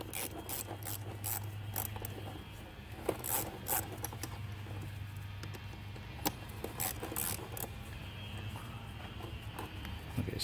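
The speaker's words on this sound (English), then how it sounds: "And then now I can loose up the hose clamp." Metal tool clicks and scrapes while an 8mm hose clamp is loosened under the hood of a Cadillac XT5 with a rough idle, a steady low engine hum underneath and scattered sharp ticks throughout.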